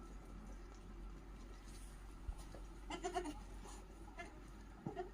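A baby goat on a farm gives a few short, faint bleats spaced a second or two apart over quiet background.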